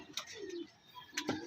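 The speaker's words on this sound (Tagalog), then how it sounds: "Yan, papatuka muna ako ng ibon." Pigeons coo softly on a sunny rooftop while being fed, with a low drawn-out coo among brief sharper bird sounds and light ambient noise.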